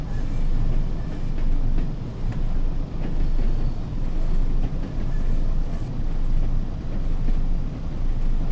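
Diesel train from Train Sim World's Northern Trans-Pennine route accelerating, a steady loud engine drone with rumbling low end and faint rail clatter, running continuously with slight swells in level.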